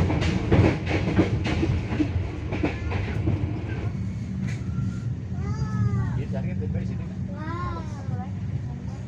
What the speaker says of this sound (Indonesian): KA Bengawan kembali diberangkatkan dari stasiun Bekasi jam 6:28.